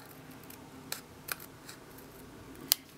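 Scissors trim excess paper off a card tag in a few sparse, crisp snips, quiet and close against a soft background hum.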